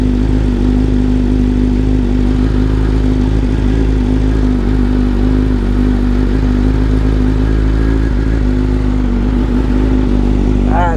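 A BMW S1000RR sport bike engine running in a garage after sitting unused for a long time, a loud, close, steady idle that holds a constant rumbling tone throughout.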